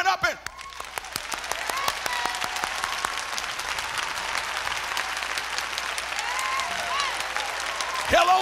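A church congregation claps along in praise during a sermon, with sharp, rhythmic hand claps at a rapid pulse that continue for several seconds. Voices and shouts rise over the beat.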